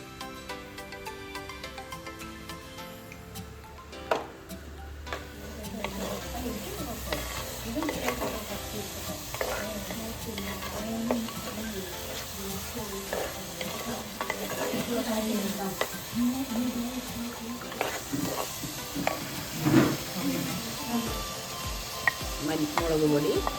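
Onions fry with a pinch of salt for Kerala chicken curry, a steady sizzle from the pan under frequent scraping and clattering stirs, close and busy throughout, with no speech.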